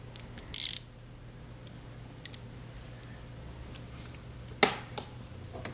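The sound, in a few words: tightening the tine screw on a Wurlitzer 206a electric piano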